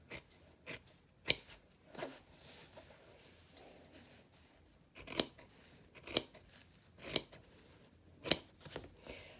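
Scissors cut through the seam allowance of heavy wool fabric on a shirt collar, making a series of sharp, close snips at irregular intervals. There is no talking.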